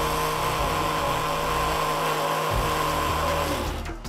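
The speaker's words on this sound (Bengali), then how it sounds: "এবার একটু রং দিলাম, কালার, আর একটু করে ব্লেন্ড করছি।" A kitchen blender whirs through lemon-grape sherbet with food colouring added, a steady motor hum that dips briefly near the middle, then resumes and cuts off at the end, with no voices.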